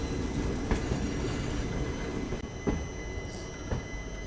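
A train rolls along the Mangaluru–Sakleshpur line with a steady rumbling roar, a faint wheel squeal and a few sharp rail clicks, fairly close and no voices.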